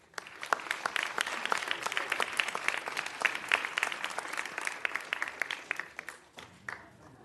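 Applause from the audience at a city council meeting during the Mayor's Education Awards, honouring an elementary school staff member: crisp, close hand claps forming a steady round that fades out near the end.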